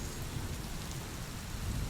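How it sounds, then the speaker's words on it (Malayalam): Heavy rain pours in a dense, unbroken hiss, steady and enveloping from start to finish with no voices. "അപ്പോൾ കനത്ത മഴയും പെയ്യുന്നുണ്ടായിരുന്നു."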